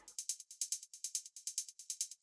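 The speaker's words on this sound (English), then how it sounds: "The close hats are all on 16th notes, straight into the piano roll." Closed hi-hats in a trance track play straight 16th notes, a steady rapid run of crisp, short ticks that swell louder as the pattern goes on, with rhythmic pulsing from an LFO tool, heard alone.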